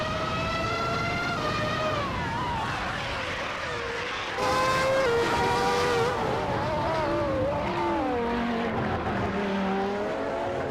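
A 1995 McLaren MP4/10 Formula 1 car races at Jerez in a video game, its high-pitched engine whine rising and falling through repeated gear changes, loud and continuous with no talk.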